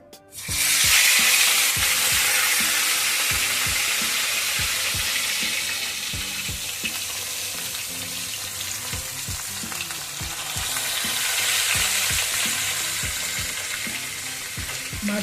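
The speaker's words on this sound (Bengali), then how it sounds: "এবার মাছগুলো ভাজবো, কিন্তু খুব হালকা করে ভাজবো।" Koi fish slide into hot mustard oil with an abrupt loud sizzle that keeps up as vigorous, steady frying, joined by a regular series of light clicks and taps, close by with no voices.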